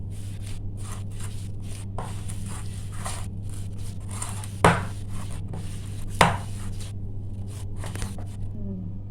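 Flour and spices kneaded by hand with chhena for chhena bora, soft rhythmic squishing and rubbing with two sharper knocks, close up over a steady low hum.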